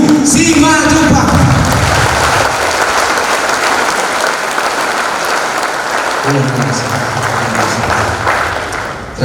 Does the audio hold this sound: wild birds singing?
no